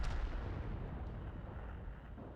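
Artillery fire in the World of Tanks video game: a single deep, rumbling boom that rolls and decays over a couple of seconds, heavy low-end blast, fairly quiet in the mix and without speech.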